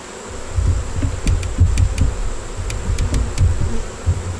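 Nurse honey bees shaken onto a hive make a continuous buzzing drone close by, with a few sharp knocks and taps as the frame or box is handled.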